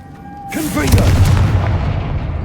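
Confringo fire spell in the Hogwarts Legacy video game: after a brief voice, a sudden loud booming blast erupts and rumbles on, slowly fading with crackling debris.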